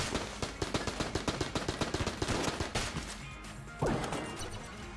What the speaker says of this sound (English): What weapon is this that fires relatively decent damaging shots at a relatively decent rate? Oh, it's AK.